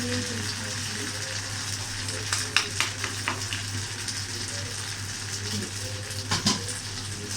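Noodles stir-fried with chicken in a hot pan, a loud continuous sizzle broken by clusters of sharp spatula scrapes and clinks near the middle and end.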